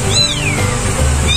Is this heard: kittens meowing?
yes